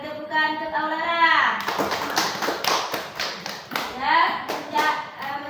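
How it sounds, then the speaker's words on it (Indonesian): Applause breaks out in a classroom: children clap together in a burst of steady claps and taps that fade and swell, with a teacher's voice talking over the start and end. "Beri tepukan untuk Aura."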